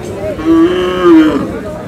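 A local cow at the Ambari cattle market in Dinajpur lets out a loud, close moo lasting about a second, with faint market voices behind it.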